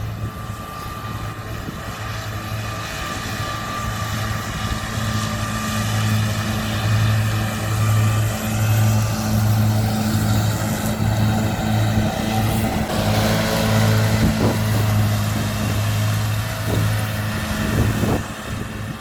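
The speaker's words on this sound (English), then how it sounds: "if you hear a hum in the background, it's because the silage is getting mowed right now" A steady mechanical drone of silage mowing in a nearby paddock carries on continuously in the background, a constant low hum with a slight pulsing throb, moderately loud and heard alone.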